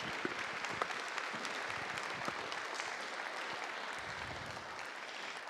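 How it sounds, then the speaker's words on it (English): An audience claps steadily, a dense even wash of applause from many hands lasting several seconds without pause. "one more big round of applause"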